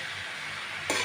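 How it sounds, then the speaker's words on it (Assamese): Steady hiss of chicken and jackfruit frying in a pan, with a brighter burst of sizzle near the end, no voices. "ধুনীয়াকৈ ভাজা হ'ল"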